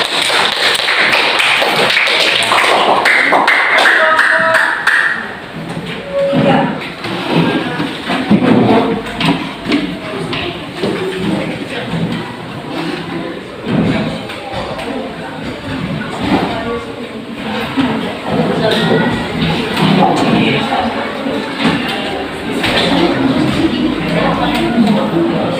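A class audience applauding, a dense burst of clapping that starts at full strength and gradually thins into scattered claps and murmuring voices.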